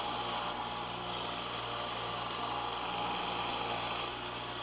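Chef knife edge being ground on an AMK-75 belt grinder: a continuous close abrasive rasping hiss with a steady hum, dipping briefly as the blade is lifted and repositioned.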